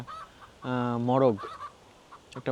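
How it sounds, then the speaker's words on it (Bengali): A chicken in a Dutch village letting out one loud, drawn-out harmonic cluck, close by, with a few softer calls and faint voices around it. "মুরগিগুলা অনেক সুন্দর"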